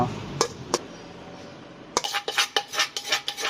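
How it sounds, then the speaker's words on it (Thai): Mashed curry paste for a Thai cassia-leaf curry with cow hide is scooped into a cooking pot. Two sharp clinks come first, followed by a quick run of scraping, clattering utensil-on-pot knocks close by. "แล้วเราก็มาควดใส่หม้อ"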